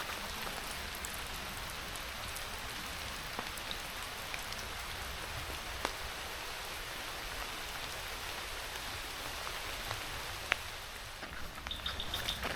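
Steady rain falls on a forest trail in Goa, a dense, even patter of drops with occasional sharper splashes and faint bird chirps near the end; no one speaks.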